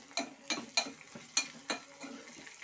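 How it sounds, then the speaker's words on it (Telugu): Spices temper in hot oil for pappu charu, a faint quiet sizzle broken by several sharp, evenly spaced clicks and scrapes of stirring in the pan. "తాలింపు అయితే వేగుతుంది."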